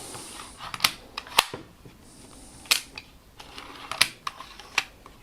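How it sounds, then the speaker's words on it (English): An Ilford Sprite 35mm camera's film advance is wound by hand, giving a run of small, crisp ratcheting clicks at an uneven rhythm, with a few sharper snaps standing out, close and clear. "you must make sure you fully wind it until it goes click"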